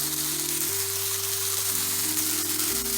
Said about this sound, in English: And we're just going to go ahead and mix that up and let that saute for about 2 minutes.